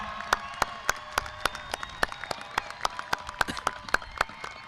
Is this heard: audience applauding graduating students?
yes